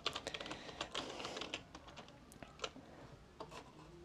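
Rapid, close typing on a computer keyboard, a quiet patter of key taps in quick bursts with brief pauses between them.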